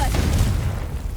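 The Confringo fire spell in Hogwarts Legacy goes off as a loud, deep boom, a single heavy blast that rumbles and fades over about a second.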